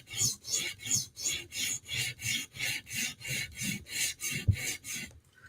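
Knife blade being sharpened on a stone from belly to tip, with a steady series of about a dozen rhythmic rasping strokes, close up and alone, ending with a light clink.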